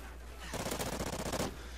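In the video game Call of Duty: Ghosts, an automatic rifle fires a fast, continuous burst of about a second over faint background noise, with rapid shots that blur into a dense rattle.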